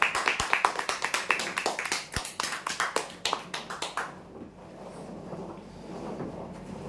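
Applause follows the announcement of prize draw winners, a few seconds of brisk, fairly close clapping from a modest crowd that fades into quiet room noise.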